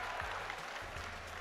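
A live esports crowd at a Halo Infinite event in Raleigh roars and applauds, a faint, distant, steady wash of cheering and clapping with low rumbles underneath.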